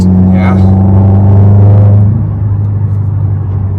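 Turbocharged engine of a 2019 Subaru WRX under boost, a loud, steady, close rumbling drone with strong low harmonics that swells briefly and then eases slightly.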